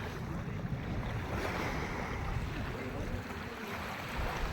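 Surf rolling onto a clean sandy sea beach on a sunny day, a steady broad wash of waves mixed with gusty wind buffeting the microphone, continuous and fairly faint, with no voices.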